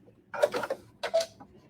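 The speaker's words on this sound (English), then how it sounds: "I'm going to do a 1/4 inch seam. And I sew this on fairly generously" Sewing machine stitching a quarter-inch seam on quilt binding: two short, close bursts of rapid mechanical needle clatter separated by a brief pause, with no talking.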